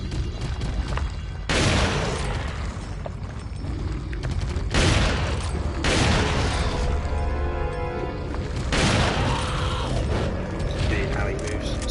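Shotgun blasts in Resident Evil 4 boom out as several separate loud bursts a couple of seconds apart, each followed by mechanical clatter and a crashing tail, with no talk over them.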